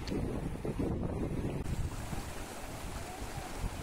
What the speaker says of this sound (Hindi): लेकिन यहाँ बहुत ठंडी ठंडी हवा आ रही है